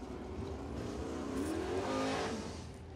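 A crate late model race car laps Crossville Speedway, its engine note climbing steadily as it powers out of turns three and four, loud and close with a rising, strained roar and no voices.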